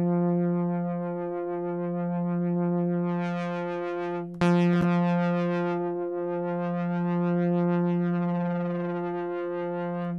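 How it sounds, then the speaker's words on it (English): A sustained synthesizer tone wavers with a slow filter flutter from a filtering LFO, its brightness rising and falling, briefly interrupted by a sharp click midway. "I'm modulating the sound right now with an LFO that's filtering, it's like basically a flutter in the sound"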